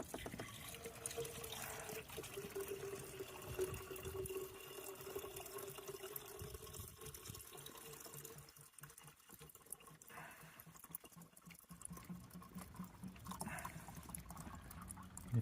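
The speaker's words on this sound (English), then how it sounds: "I'm going to top this up with water because this is bone dry." Water trickles and pours quietly into a bone-dry coolant reservoir of a Chevy Cruze, a soft, uneven splashing that thins out and returns over several seconds.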